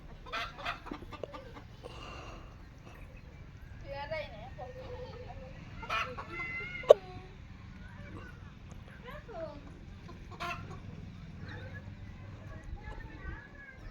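Chickens cluck in short bursts and a rooster's call rises amid people talking nearby, with scattered clicks and a sharp tap.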